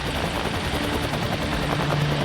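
A rescue helicopter's rotor beats and engine roar fill the air in a steady, loud, close drone throughout, with no voices over it.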